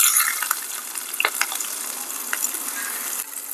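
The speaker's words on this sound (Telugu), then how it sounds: "నూనె కాగాక కోసుకున్న ఉల్లిపాయలు పచ్చిమిరకాయలు వేసుకుందాం." Sliced onions and green chillies hit hot oil for a clove bean curry, giving a steady close sizzle with a few sharp crackles and light stirring clicks; no one speaks.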